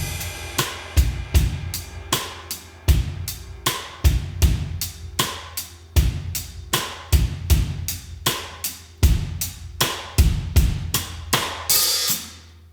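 A drum kit plays a soft groove on hi-hats and kick, giving a steady, even pulse of light hits close to the microphone. It runs for about twelve seconds without talk, and a cymbal swells at the end.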